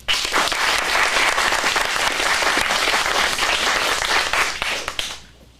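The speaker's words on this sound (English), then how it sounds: "Let's get a round of applause." Audience applause after a scene at an adult acting studio script showcase in Phoenix, a loud, dense burst of clapping from a room full of people that holds steady before fading out near the end.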